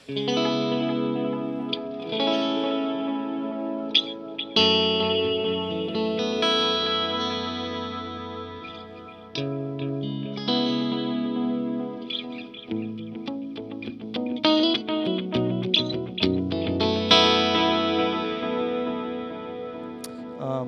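Guitar chords through a Deluxe Memory Man pedal shimmer and swirl with modulation, wavering chorus-like pitch movement and some distortion, playing steadily and fairly loud with no talking.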